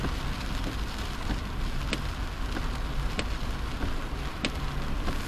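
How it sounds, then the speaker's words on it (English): Steady rain falling and pattering on a surface in Jamaica, a dense continuous hiss with a few sharper drip ticks, no voices. "Look at the rain"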